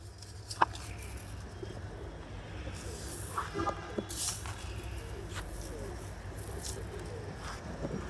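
Pigeons kept in a home loft give soft, low cooing calls in quiet surroundings, with a few faint scattered chirps and small knocks over a low steady background.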